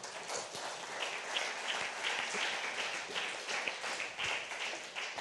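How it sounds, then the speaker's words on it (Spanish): A church congregation in London applauds during a sermon, a soft, sustained wash of many hands clapping at a distance, steady and fairly quiet throughout with no speech over it. "Dele un aplauso."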